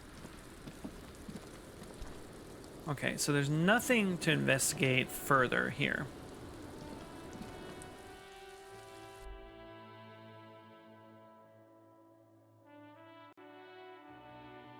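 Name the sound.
rain falling in the video game Disco Elysium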